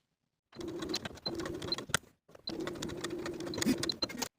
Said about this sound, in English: Sew that angled edge with a 3/8 inch seam allowance, pivoting at the center using a regular straight stitch.